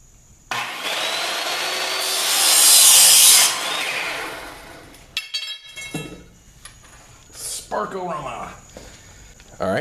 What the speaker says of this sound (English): now I'm gonna take this over to the saw and get it cut